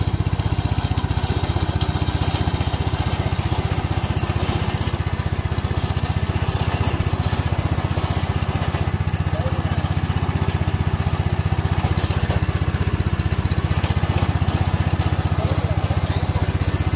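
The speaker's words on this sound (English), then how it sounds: "We are a professional remote control lawnmower manufacturer." A remote control lawn mower engine drones steadily and loudly throughout, a constant buzzing hum with no pauses.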